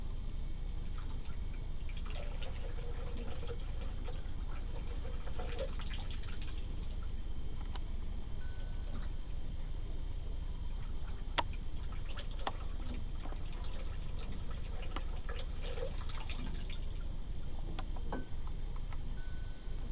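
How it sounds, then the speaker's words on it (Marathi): Water poured in small additions and then dripping, a soft continuous trickle with scattered drips over a low background hum, no talking. "आणखीन थोडं पाणी ओतलं"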